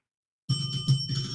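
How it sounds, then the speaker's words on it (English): A bell on a sports talk show is dinged sharply out of silence, then struck again a couple more times in quick succession, each bright metallic ring overlapping the last and sustaining close and loud. "We dinged the bell so many times we broke the bell, Jim."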